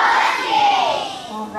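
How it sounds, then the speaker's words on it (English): Elementary school boys and girls give a group cheer together, a sustained crowd of young voices shouting in unison, loud and close, swelling and then tapering slightly. "So I think these boys and girls deserve a great big Husky cheer."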